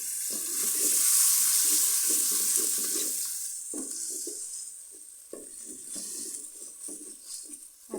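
Ginger and garlic frying with a splash of water added, a loud hissing sizzle up front that settles into steady frying with repeated close stirring and scraping strokes.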